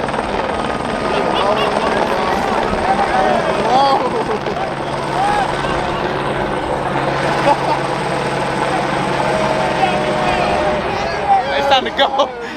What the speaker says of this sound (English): We got the helicopter just pulled up